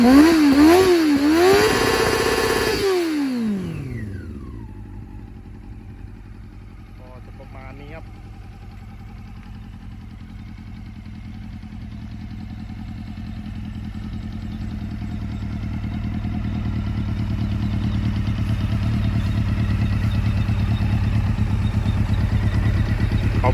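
A 1997 Honda CB400 motorcycle engine revs hard a few times, then settles into a steady low idle that rumbles on for a long stretch.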